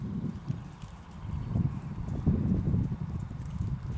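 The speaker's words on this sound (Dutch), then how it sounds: "Dus dat paard loopt nu al een heel stuk ruimer naar voren, hè." Horse hooves trot steadily across an arena during a dressage riding lesson in Gooik, a soft, regular clip-clop rhythm heard close by with no talking over it.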